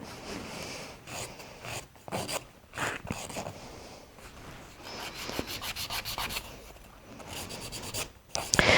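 Gel UV/LED nail extensions built on paper forms, shaped with a nail file in steady back-and-forth rasping strokes, close and continuous, speeding into denser rapid strokes toward the end.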